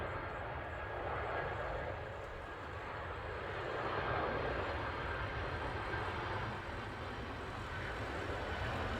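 Air Canada Rouge airliner from Toronto landing at Manchester Airport, a continuous broad jet engine rumble and roar heard from a distance, with people chatting faintly nearby.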